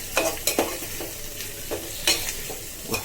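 Loitta dried fish bharta tossed into hot mustard oil, a constant sizzle broken by several sharp scraping stirs of a spatula, close and clear with no voices.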